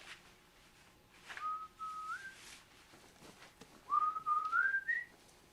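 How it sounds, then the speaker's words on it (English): A person whistles a short melodic tune in two rising phrases, fairly quiet and close, with a pause between them. "Just whistling like it's a grand day."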